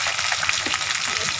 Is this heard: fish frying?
yes